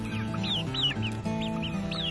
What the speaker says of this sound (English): So here's a little cockerel.